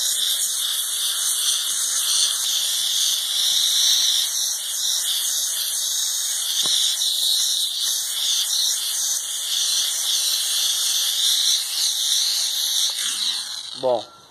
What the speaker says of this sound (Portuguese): estão vendo com a máquina a vapor